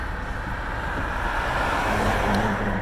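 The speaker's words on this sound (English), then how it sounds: "Turn the car engine on" A car engine idling from inside the vehicle with a window open, a steady low rumble joined by soft road and traffic noise outside that swells slightly toward the end.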